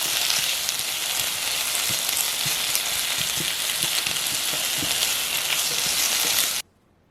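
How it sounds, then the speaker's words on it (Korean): Cut cherry tomatoes stir-frying in a pan give a dense, close, continuous sizzle with faint scraping stirs throughout, then the sound stops abruptly near the end. "잘라놓은 방울토마토를 넣어 섞으면서 볶아줄게요."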